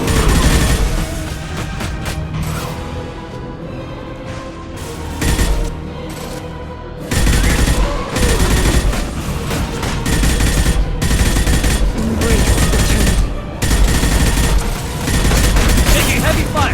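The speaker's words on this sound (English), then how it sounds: "Taking heavy fire!" Heavy sci-fi weapon fire in a Mass Effect 2 firefight on Xbox One, loud rattling bursts and booming impacts layered over battle noise, with voices calling out during the fighting.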